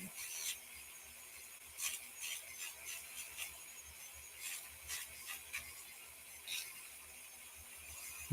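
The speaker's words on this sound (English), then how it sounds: "we can kind of make sure we get a nice even sanding from the bottom" Quiet, rhythmic rasping and scraping of a sanding bit against wood, short repeated strokes over a faint steady hum.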